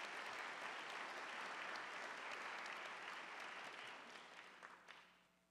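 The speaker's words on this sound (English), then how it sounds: "Let's give them a round of applause." An audience at a fall convocation claps in a steady, even wave of applause that holds for several seconds before tapering off into a few scattered final claps.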